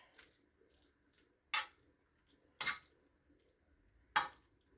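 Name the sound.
stirring butter into cooking grain in a pot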